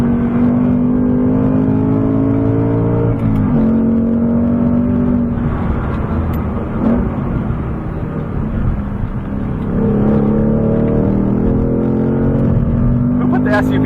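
A Ford Mustang Dark Horse accelerates hard during a track hot lap, its engine a loud, continuous drone with brief dips in pitch like gear changes, while people talk over it throughout.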